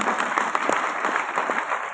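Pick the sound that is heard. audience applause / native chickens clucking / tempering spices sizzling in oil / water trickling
audience applause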